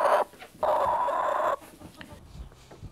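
A free-range flock of farm chickens, with loud, close squawking clucks in two long bursts, then quieter scattered clucking and farmyard noise.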